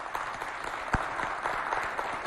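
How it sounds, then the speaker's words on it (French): An audience applauds a Chadian woman photographer at a women-and-media show, with a steady, fairly quiet wash of clapping and one sharper clap standing out. "Applaudissez pour elle."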